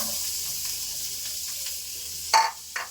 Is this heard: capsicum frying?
yes